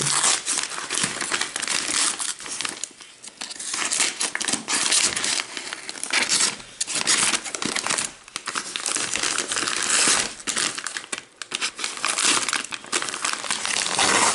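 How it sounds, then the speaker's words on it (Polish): A large parcel's packaging is unwrapped, giving continuous loud, close crinkling and rustling of paper or plastic that runs almost unbroken for a long stretch, with no talk. "Więc będziemy rozpakowywać paczkę."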